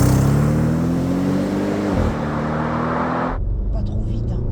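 An Audi RS6 C7 quattro driven in winter accelerates hard. The loud, close engine note climbs steadily, dips briefly as the gear changes, then drops away into a quieter rumble.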